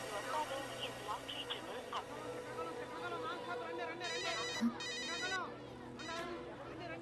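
A phone ringtone trills in repeated bursts at moderate volume, with voices murmuring in the background.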